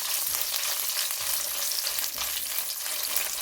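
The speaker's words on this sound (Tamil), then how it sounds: "செண்டு மிளகாயை இதில் போட்டு எடுக்க எண்ணெயில் பொறிச்சு எடுப்போம்" Dried chillies fry in oil over low heat for a Sri Lankan dried prawn sambal, giving a dense, steady crackling sizzle throughout with no voices.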